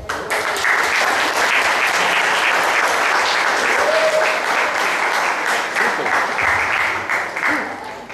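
A music school audience in Alagoinhas breaks into sustained, loud applause welcoming a performing musician, steady clapping filling the room throughout with a few faint voices mixed in.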